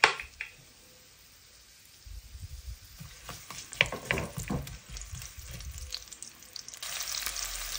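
Onion sautéing in hot oil in a pan, a steady sizzle with scattered crackles and stirring scrapes that swell louder toward the end, with no talking.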